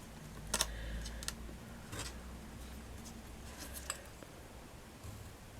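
Scissors cutting chipboard for the seat base of a miniature 1:12 scale Queen Anne chair, a few crisp snips and crunches spaced unevenly over soft handling noise, close and fairly quiet.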